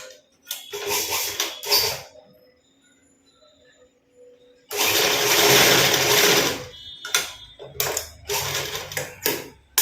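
A sewing machine stitches a blouse in short, loud whirring runs, with a longer two-second run in the middle and quiet pauses between bursts, close and with no talking.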